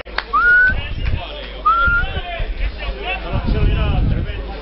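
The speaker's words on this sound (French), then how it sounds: "Tu l'entends toi le sifflet?" At a rugby match, a referee gives two short rising whistle blasts close together over a loud crowd murmur, and people talk nearby.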